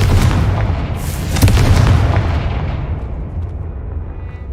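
A Confringo fire spell detonates in Hogwarts Legacy with a loud booming blast that surges early and then rolls away into a long rumbling decay, with no voices over it.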